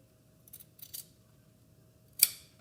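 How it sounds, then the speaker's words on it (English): Scissors snip through a suit lapel facing of wedding-suit fabric, quiet and close: a few soft cuts in quick succession, a pause, then one sharper snip. "take your scissors and you are going to snip on the facing only down that line to that point"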